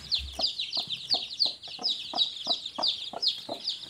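A local hen clucks among her newly hatched chicks, steady soft rhythmic clucks under a busy layer of high, continuous chick peeping, close by and without speech.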